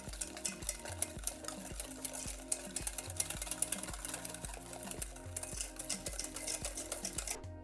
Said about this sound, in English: So we're going to mix it up again